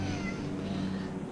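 A frightened stray cat, stranded for days in bad weather and being rescued, lets out one long drawn-out meow, loud and close, with no other sound over it.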